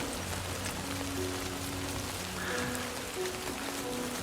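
Steady rain falls in the Death Stranding 2 video game, a dense even hiss of drops on surfaces with faint low musical tones underneath and no speech.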